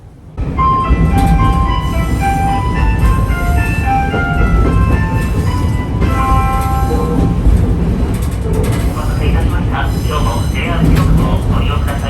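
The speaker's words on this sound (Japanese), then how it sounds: "宇和島駅から一駅目で ATS のベルが鳴りました。" On board a JR train just after leaving Uwajima Station, Japan, a loud ATS warning bell rings in repeated tonal chimes over the constant rumble of the moving railcar.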